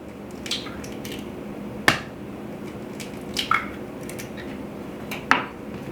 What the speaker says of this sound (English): So 2 eggs into this bowl.